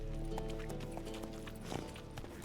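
A horse galloping in The Witcher video game, quick rhythmic hoof clip-clops at moderate distance, fairly quiet, with a brief snort and a faint voice.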